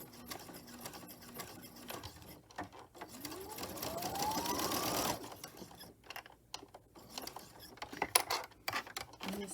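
An electric sewing machine stitches a muslin herb sachet in a rapid, steady whirring run that swells mid-way and then breaks into short, intermittent bursts of mechanical clatter, close and fairly quiet.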